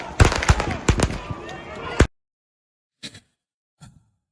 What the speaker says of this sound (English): And yet another one fired into the crowd just for good luck.